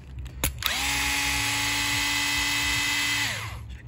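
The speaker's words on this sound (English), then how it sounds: "Use the electric driver to make it a bit quicker." An electric screwdriver backing screws out of an RC car's gear cover, a close whirring motor run of about three seconds that spins up after a click and then winds down.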